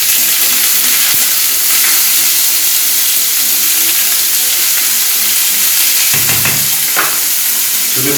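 Onions sizzle steadily in olive oil in a saucepan for a vegetarian paella, a loud continuous fry with a few faint stirring knocks and scrapes and no voices.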